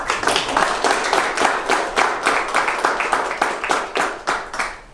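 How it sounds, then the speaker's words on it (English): An audience giving a round of applause, many hands clapping in a brisk, steady patter that stays loud and near for the full stretch and then begins to thin at the end, with no speech over it. "I think he deserves a little round of applause"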